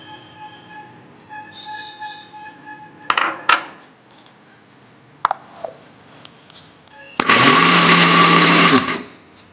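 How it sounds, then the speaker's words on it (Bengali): A mixer grinder grinds boiled chana dal in a kitchen. After a few quiet clicks and knocks, a loud whirring burst runs for about two seconds at close range before it stops abruptly. "এইখানে আমি সেদ্ধ ছোলার ডালটাকে মিক্সিতে ঘুরিয়ে নেব।"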